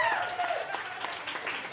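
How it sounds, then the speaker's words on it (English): Comedy club audience claps briefly for the bartender, a short burst of scattered applause under fading voice and crowd noise. "Also, big round of applause to your bartender tonight."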